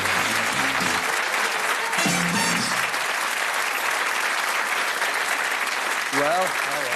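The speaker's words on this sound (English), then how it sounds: "Give them a round of applause." Studio audience applauding on the game show Bullseye, sustained dense clapping from a crowd with music playing underneath and brief bursts of a host's voice over the top.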